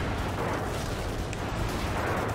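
Airstrike explosions in Call of Duty 4, heard as a continuous dense rumble of blasts that stays loud and broadband throughout the short stretch, with no voices over it.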